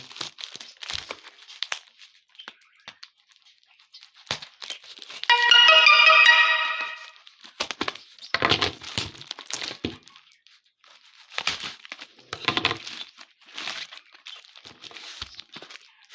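A cleaning product package is cut open with a knife and unwrapped, giving close crinkling, crackling and tearing bursts of plastic wrap in irregular clusters, with a short tonal ringing sound near the start.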